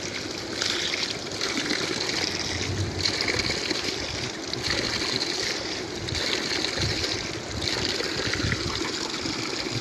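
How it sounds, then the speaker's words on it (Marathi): Water pouring steadily out of a tank, a continuous broadband rush with faint splashing, loud and close, running alone without voices throughout. "हे सतत पाणी चालू आहे मित्रांनो"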